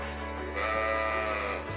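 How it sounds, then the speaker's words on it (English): Sheep in the Trails of Cold Steel video game let out a single wavering bleat, fairly loud and close over a steady ambient game backdrop, without talking. "There's sheep over here."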